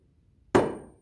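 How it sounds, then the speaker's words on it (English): A single sharp strike of a tuning fork on a rubber pad rings out once, close and moderately loud, then decays quickly into silence. "I will hit the tuning fork on the rubber pad gently,"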